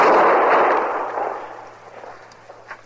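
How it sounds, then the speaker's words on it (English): A gunshot in a 1955 Western radio drama rings out loud and close, a broad blast that decays into a lingering echo and fades over a few seconds, with a faint later knock. "Somebody was shooting at me, Chester."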